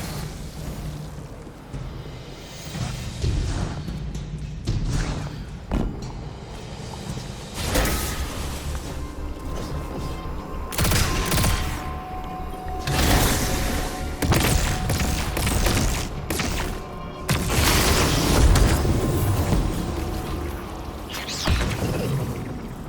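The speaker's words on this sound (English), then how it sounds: "it's supercharging the cannon" Heavy mechanical clanks, booming blasts and crashing impacts from a supercharged cannon in the video game Destiny 2, loud and continuous with repeated sharp hits over a dense rumbling bed.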